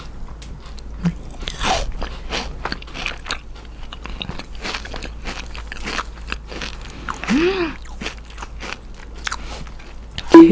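Close-up bites and chewing of a crunchy Dubai chewy cookie made with kataifi, a series of crisp crunches and crackles with quiet mouth sounds in between.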